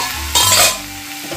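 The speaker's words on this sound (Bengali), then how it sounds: "আবারও ঢাকা খুলে এটা নেড়ে নিচ্ছি।" Pumpkin and potato curry cooked with chana dal being stirred in a pan after the lid is lifted, a short scraping stir over a soft sizzle, loudest in a brief burst in the middle before settling back.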